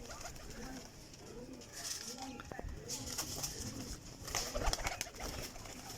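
Ferozpuri Taddy pigeons coo in soft, repeated rounded calls at a steady rhythm, fairly close, with faint rustling, brief clicks and light background noise.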